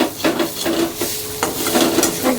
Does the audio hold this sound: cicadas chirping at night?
no